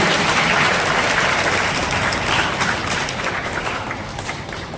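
Applause from a school admission festival audience welcoming newly admitted Class 9 and 11 students, a steady dense clapping that holds throughout and slowly fades slightly toward the end, with no talking.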